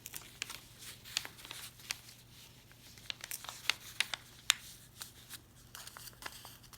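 Scissors cut fabric pieces for a koala pillow: quiet, crisp snips and papery rustles from handling the pattern, in irregular bursts at close range with no talking.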